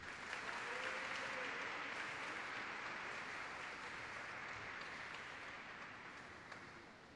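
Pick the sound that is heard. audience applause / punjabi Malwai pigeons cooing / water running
audience applause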